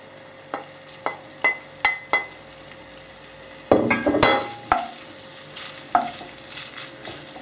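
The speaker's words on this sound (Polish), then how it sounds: "I zaraz będę podsmażała boczek, kiełbaskę i cebulkę. Wrzucam boczek." Bacon dropped into a little hot oil in a pan: a few sharp taps and clinks, then a sudden loud sizzle that keeps hissing, broken by stirring clatter.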